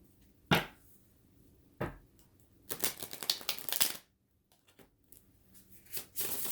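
Tarot cards shuffled in several bursts: two quick riffles, then a longer rapid flurry, more riffling near the end, close and crisp with quiet gaps.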